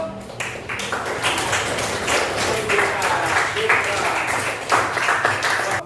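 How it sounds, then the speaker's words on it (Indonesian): A classroom of people clapping in a brisk, uneven patter, lasting several seconds at moderate loudness with no talking over it. "Tepuk tangan untuk"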